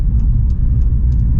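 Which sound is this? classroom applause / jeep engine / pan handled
jeep engine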